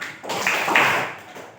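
Hands clap in a classroom rhythm exercise, with a single loud sharp clap that rings briefly and then fades.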